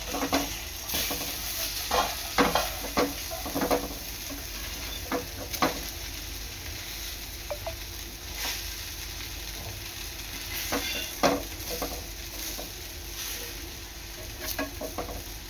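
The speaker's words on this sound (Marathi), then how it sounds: "ही वांग्याची काप तळून घ्यायची आहे।" Eggplant slices fry in hot oil at medium heat, giving a steady close sizzle broken by clinks and scrapes of a utensil against the pan.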